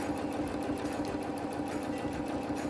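A sewing machine runs steadily for free motion quilting through a quilt maze design, its rapid even stitching hum continuous and close with no pauses or talk.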